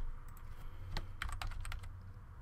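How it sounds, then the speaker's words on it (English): Keystrokes on a Mac computer keyboard, a short burst of quick, fairly close taps clustered together over a low steady room hum, with no talking. "I'll just type in here"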